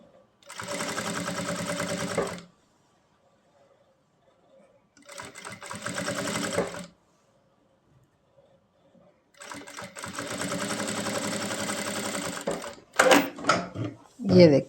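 An electric sewing machine stitches a kurta neckline in three bursts of rapid, even whirring, each a couple of seconds long and separated by quiet pauses, ending with a few sharp clicks and handling noises.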